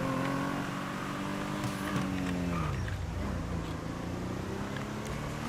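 A car driving in GTA V Online, a steady engine drone with harmonic tones that dip as it shifts or slows midway, then level off, moderately loud and continuous.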